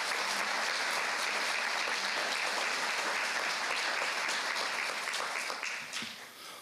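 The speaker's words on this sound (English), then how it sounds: "let's give him a round of applause" An audience at a historic preservation awards ceremony gives a round of applause, a full, steady clapping from many people that holds level before thinning and fading away at the end.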